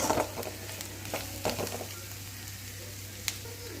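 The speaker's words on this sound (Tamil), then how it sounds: "இதை நல்லா ஒரு பெரட்டி மிக்ஸ் பண்ணி விட்டுக்கலாம்." Bitter gourd curry with Kashmiri chilli powder being stir-fried in a pan, a soft continuous sizzle broken by a few quick scraping stirs, fairly quiet and without speech.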